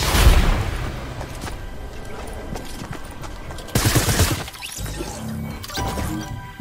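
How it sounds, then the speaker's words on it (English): Assault rifle fire in a Fortnite match: bursts of rapid shots open the clip and return midway, with crashes and impacts between them and quieter stretches of game sound. "Assault rifle?"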